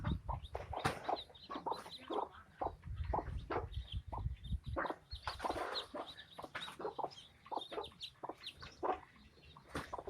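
Native country hens cluck steadily at a home egg-hatching setup, with repeated close, overlapping clucks and soft calls running throughout, and no talk.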